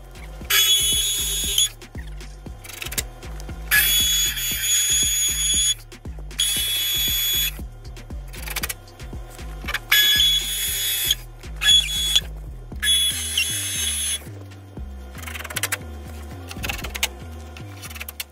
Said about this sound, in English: It's easy as pre-drill and drill.